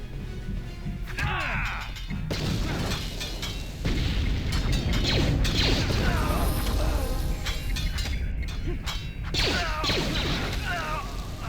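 A grenade blast in Star Wars: Knights of the Old Republic, loud crashing booms and rumbling impacts layered with game effects over a sustained noisy battle backdrop.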